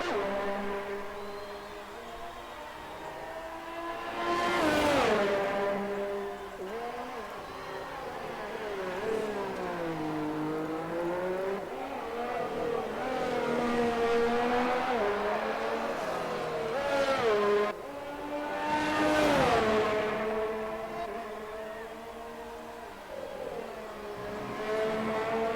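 Ferrari race car engine in a racing video game at Australia, a steady whining drone climbing and dipping through repeated gear shifts, with two louder surges as cars pass close by and faint commentary underneath.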